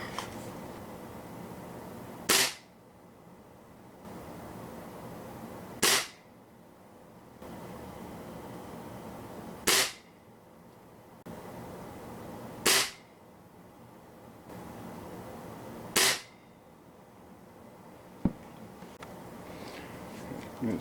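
A Swiss Arms TG1 .177 air rifle fires H&N Barracuda Match 10.65 grain pellets: five sharp, loud shots spaced a few seconds apart, with a small click near the end over a steady low hiss.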